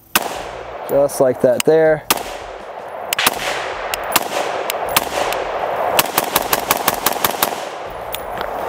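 Sharp, loud gunshots from an AR-platform rifle fitted with a Trijicon ACOG scope crack out repeatedly, with more reports following in an irregular series after someone speaks briefly at the start.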